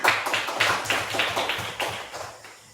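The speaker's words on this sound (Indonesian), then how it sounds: "Tepuk tangan." A classroom of students claps in brief applause, a quick run of sharp, fairly close hand claps that tapers off toward the end, with no talking over it.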